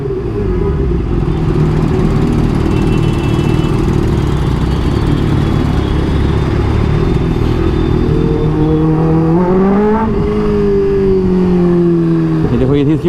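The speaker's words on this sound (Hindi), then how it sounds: "जैसे ही भाई आती है 6000 RPM पे करती है हिट, तो इसकी सीटियाँ आने शुरू होती हैं" A supercharged Kawasaki Ninja H2 motorcycle revs loudly and continuously, its engine roar steady with a thin supercharger whistle above it. The pitch sweeps up near the end, then briefly drops and climbs again.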